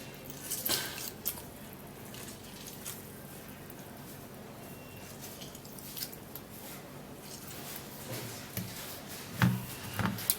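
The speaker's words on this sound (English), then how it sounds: "going to be cutting half of this lemon. And then we're going to be squeezing a whole lot of the juice in here." Soft, wet squishing and dripping as a cut lemon half is squeezed for its juice, faint and close, with a few sharper squelches spread across the stretch and no talk.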